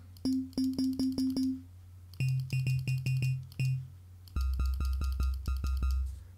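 Short, soft pulses of the pulse sine waveform on the Arturia DX7 V software synthesizer, a smooth sine tone played in quick repeated bursts at a few different pitches, with no voices.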